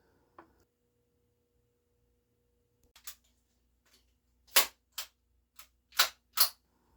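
A KWC full metal Mini UZI 4.5mm CO2 air gun fires single semi-auto shots, a few soft clicks first, then five sharp, close cracks spaced roughly half a second apart over a quiet background.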